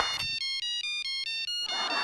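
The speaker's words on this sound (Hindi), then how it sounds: "फोन बज रहा है" A phone ringtone plays a rapid repeating electronic melody of clear beeping tones, loud and close, with a brief bit of background noise at the start and end.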